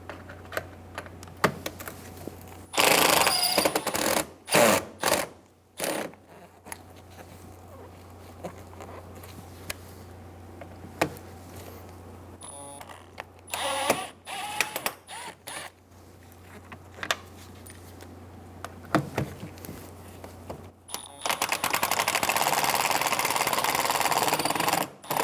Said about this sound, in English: Remove the 2 Phillips head screws.